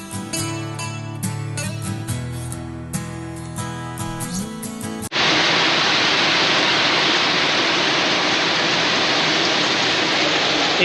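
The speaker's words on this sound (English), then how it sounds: "It rained on the walk, but I think we got back in the nick of time because it's significantly worse now." Heavy rain pours steadily after a volcano walk on Rangitoto Island, New Zealand, a loud dense hiss that arrives abruptly about halfway through, following a stretch of tonal music, and then continues unbroken without talk.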